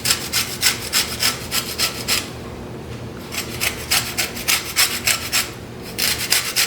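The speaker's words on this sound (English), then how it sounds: "first I'm going to add some lemon zest to a couple of these." Lemon zest grated over toast, rhythmic rasping strokes in quick bursts with a short pause, close and fairly loud, no talking.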